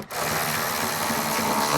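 A power tool snugs up the speaker mounting bolts during a Nissan Frontier D41 speaker install, giving a steady continuous whirring buzz that runs loud and close for the whole short stretch after a brief start.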